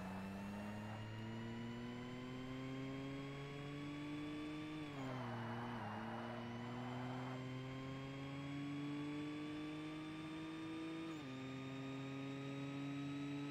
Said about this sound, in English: that engine noise is not sounding too bad